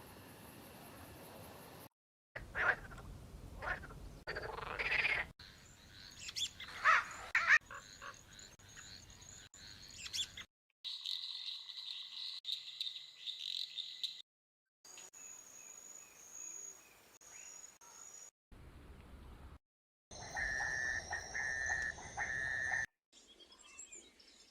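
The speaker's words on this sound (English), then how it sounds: "Swamp ambience. We might get a good sound here." Swamp ambience layers chirping crickets, croaking frogs and a few bird calls in short, separate segments that cut in and out, each a dense, steady chorus at moderate loudness.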